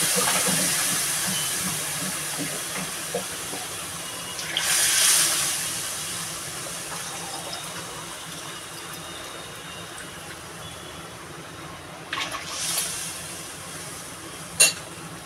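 Water poured into a cooking pot while a sour dish simmers: two short hissing, rushing bursts, one near the start and one near the end, over a quiet steady kitchen background.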